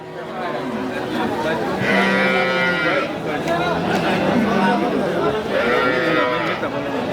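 Cattle at a busy cow market in Sharatnagar, including a large dairy cow, give a couple of drawn-out lows amid steady crowd chatter and voices talking close by.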